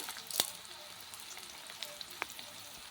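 Onions frying in oil with salt in a pan, a soft, faint sizzle with a couple of sharp clicks of a utensil against the pan.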